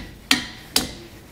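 Hammer tapping a Kodiak disc brake part onto the axle of a 2018 Shasta Phoenix fifth-wheel trailer: two sharp, close metallic taps about half a second apart, each decaying quickly.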